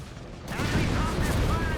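In Company of Heroes 3, an armored anti-tank gun and a Chaffee light tank fire, producing a dense, loud, roaring battle rumble that swells after a brief quieter start and holds steady.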